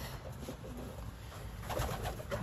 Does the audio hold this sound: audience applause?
no